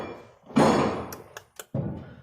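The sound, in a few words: banging from unloading the back of a truck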